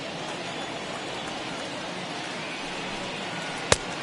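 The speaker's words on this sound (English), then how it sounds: "This has got to be the hardest rain we've seen all afternoon." Heavy rain falls steadily throughout during a Minnesota Twins at Detroit Tigers MLB baseball game, a dense continuous hiss with one brief sharp click near the end and no talk.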